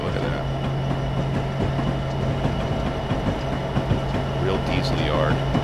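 A BNSF SD75 diesel freight train in Train Simulator 2016 rolls into a freight yard siding, a continuous low engine drone and rumble with faint rail clicks, while someone talks over it.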